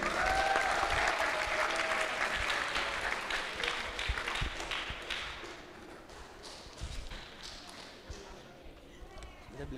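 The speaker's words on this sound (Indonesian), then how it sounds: "Langsung saja beri tepuk tangan untuk yang meriah, Noval" A studio audience at an open mic comedy show applauds comedian Noval Hanafi, with loud dense clapping that slowly thins and fades over about ten seconds, while a voice is audible near the start.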